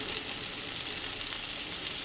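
Ground spices such as coriander, cumin and turmeric sizzle in hot oil in a pan while dalia khichdi cooks. The frying hiss is steady and loud, with no pauses.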